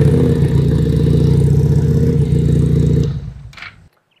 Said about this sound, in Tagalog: So yan ang tunog ng isang V-twin na 250cc from FKM